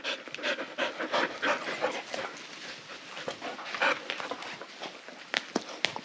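A farm dog pants rapidly and steadily up close, rhythmic breathy huffs continuing throughout with a few soft shuffles and clicks of movement around it.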